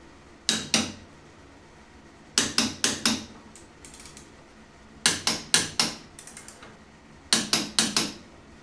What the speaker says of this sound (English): now we can move on and torque the trailing arm